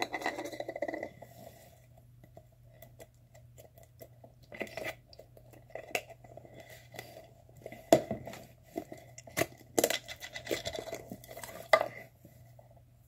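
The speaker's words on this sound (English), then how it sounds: "This slime, it's such a nice butter slime." Butter slime squished and stretched on a table, soft intermittent sticky clicks, pops and squelches at close range, no talking.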